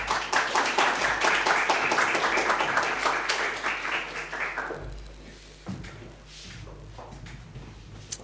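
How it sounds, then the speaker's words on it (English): Audience applause for the Vice Minister of Tourism of Honduras as she is introduced, a dense burst of many hands clapping that holds steady for several seconds, then thins and fades into scattered claps. "An applause, please"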